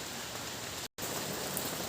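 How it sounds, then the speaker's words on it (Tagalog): Rain falling in a forest in Bikol, a constant bright hiss of drops on foliage, broken by a moment of dead silence before the downpour resumes just as steadily. "Balik na tayo. Umuulan na eh."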